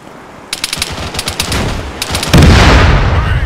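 Bursts of close automatic gunfire in Arma 3, rapid rattling volleys broken by short pauses, then a heavy anti-tank launcher blast that booms and rolls on as a loud, lingering rumble.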